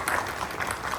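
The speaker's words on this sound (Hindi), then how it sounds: "तालियों की गड़गड़ाहट से" A college audience at a Gratitude Day celebration applauds in a steady, moderately loud patter of many hands for about a second.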